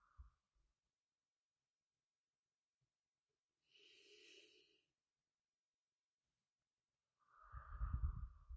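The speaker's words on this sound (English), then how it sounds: "So when you breathe in through your nose, hold it for a second, and then breathe out through your mouth" Slow, deep breaths drawn in through the nose and let out through the mouth, faint and close, with a soft airy inhale in the middle and a fuller, louder exhale near the end, separated by long silence.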